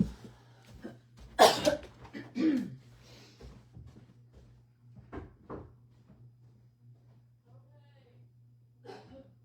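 A few harsh coughs burst out close by, followed by quieter scattered throat sounds and clatter, then near silence.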